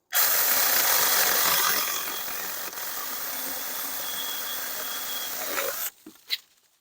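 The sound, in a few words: NaTiddy mini chainsaw cutting 3-inch thick pine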